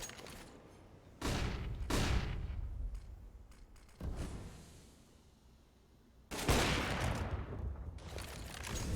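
Counter-Strike match gunfire with AWP sniper rifle shots: several loud, booming bursts with long decaying tails separated by quieter stretches, heard alone.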